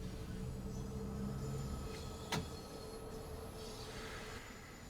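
A London Underground Bakerloo Line 1972 Stock train in Train Sim World 3, a continuous rumbling run with wheel squeal and a sharp clank partway through, slowing gradually.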